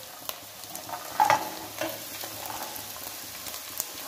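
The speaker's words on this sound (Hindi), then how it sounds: "तो मैंने मटर को भी मिक्स कर लिया" Peas stirred into Maggi masala in a pan: a spatula scrapes and clinks through the frying mix over a continuous gentle sizzle, with a few louder strokes near the middle.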